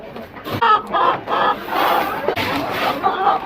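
Chickens and a rooster cluck and squawk excitedly as they are let out of their coop on a rainy, windy homestead morning, a close, busy chorus of overlapping calls.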